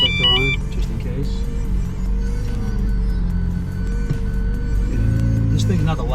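A McLaren 720S with a titanium exhaust idles and gurgles nearby in a steady low rumble, while people talk over it.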